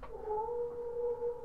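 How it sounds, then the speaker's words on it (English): A cat meows in the video game The Last Door, one drawn-out, steady and clear call with no talking over it. "I hear a cat meowing in the distance."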